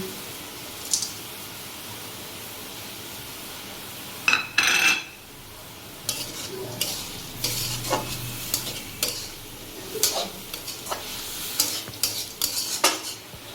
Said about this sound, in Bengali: এইভাবে নেড়ে নেড়ে আমরা শাকটাকে ভেজে নেব